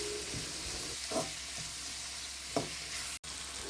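Onions and tomatoes fry in a pan with a steady broadband sizzle throughout, broken by a few soft stirring scrapes and one brief dropout near the end.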